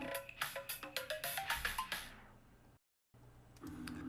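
A phone rings with an incoming call, a quick run of bright, evenly spaced electronic tones that fade out, followed by a brief silence and then quiet background noise.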